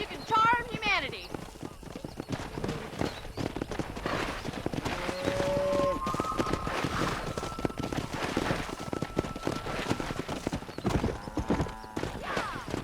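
Rapid hoofbeats of a galloping horse in the Western video game Red Dead Redemption, a steady close clip-clop running throughout, with a whinny near the start and voices talking over the ride.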